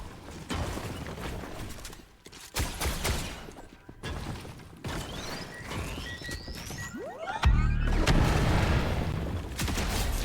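Gunfire in a video game: repeated shots and heavy booms in bursts, with mechanical clatter between them, fairly loud and close, mixed with other game sounds.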